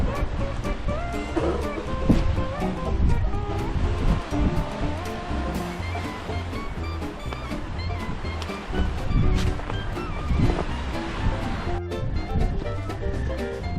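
Strong wind gusting along a shoreline, a loud, continuous broadband roar with surging swells, close and unbroken throughout.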